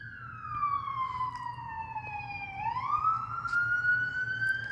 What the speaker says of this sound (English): I was letting the sirens pass.